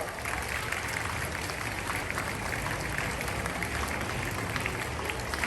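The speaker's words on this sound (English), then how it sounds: "A big hand clap for our founder principal" Teachers' Day celebration crowd gives a hand clap for the founder principal, a dense, steady wash of clapping at moderate loudness with no pauses.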